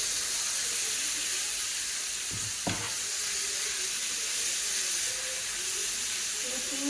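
Chopped tomatoes tumble into onions already browning in a hot pan, giving a brief soft drop and a burst of crackle over a steady, even sizzle that carries on alone.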